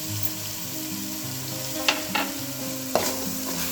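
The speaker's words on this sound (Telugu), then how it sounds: "ఇవి కూడా కొంచెం పచ్చివాసన పోయేలా వేయించుకోవాలి." Poppy seed and coconut paste fries in a pan, a soft continuous sizzle with a few brief scraping strokes of the spoon, close and moderately quiet with no talking.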